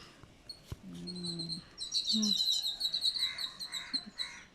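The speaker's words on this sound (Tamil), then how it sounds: "இந்த நெல்லிக்காய் மரத்தில் குருவியை பாருங்க" A sparrow in a gooseberry tree gives rapid, high-pitched chirps in a bright, busy burst that runs for a couple of seconds, moderately close, with faint background noises around it.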